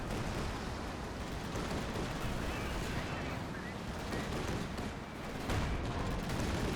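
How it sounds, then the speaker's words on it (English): Dense, continuous battlefield gunfire from a Company of Heroes 2 match, a steady wash of shots and distant bursts running throughout at even loudness, with a faint voice underneath. "Somebody's shooting at us."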